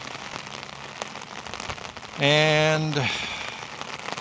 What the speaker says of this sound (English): I'm in Norwich, Connecticut, walking around in a rainstorm.